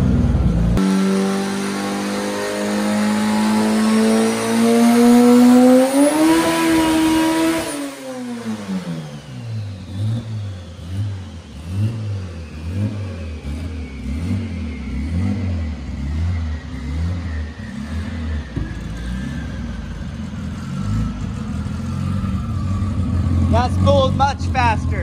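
Front-wheel-drive project car on a dyno, engine revving hard and climbing in pitch, then dropping back to a pulsing lower drone as it winds down, loud and close, with a brief voice in the background.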